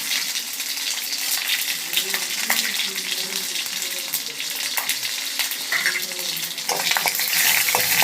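Mustard seeds, fenugreek and green and dried red chillies tempering in hot oil in a kadai for doodhwal rasam, a steady close sizzle and crackle with scattered pops, running alone without talk.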